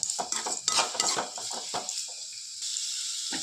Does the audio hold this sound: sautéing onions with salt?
yes